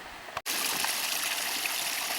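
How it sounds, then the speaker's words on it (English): Ice-cold runoff from a hillside stream in Glen Almond pouring steadily into a water bottle, a loud, continuous close-up rush of splashing water broken by one brief gap near the start. "So a quick fill up of my water bottle with the stuff running off the hill"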